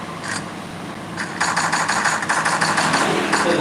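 Motorbike engines in the Free Fire video game, a rough engine rumble with rattling bursts that grow busier and more rapid after the first second, close and moderately loud.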